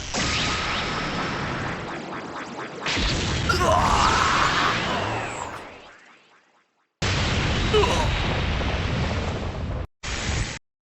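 Special Beam Cannon attack effects from the Dokkan Battle video game: a charging energy whine builds into a roaring blast that fades out, then after a pause comes a second loud burst of noise and a short final hit.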